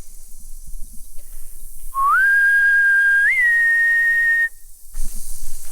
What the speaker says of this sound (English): let's go ahead and whistle and bring them on in